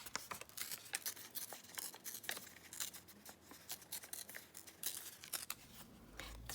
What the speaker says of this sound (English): I'm going to try to actually tear this out, because I want it to have a nice rough edge